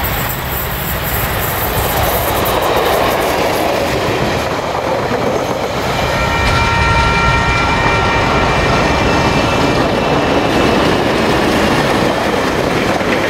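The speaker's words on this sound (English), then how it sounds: "the train gets underway north." A diesel-hauled New Zealand passenger train pulls north toward Christchurch after an Ashburton stop, its wheels rumbling and clattering steadily on the rails at close range, with a faint high squeal of wheels partway through and no one talking.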